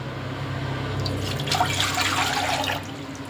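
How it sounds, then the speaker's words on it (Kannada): Water splashes into a metal pot for a couple of seconds, a close, rushing pour that then tapers off. "ನಾನು ಇವಾಗ ಇದಕ್ಕೆ ನೀರು ಹಾಕ್ಕೊಳ್ತೀನಿ."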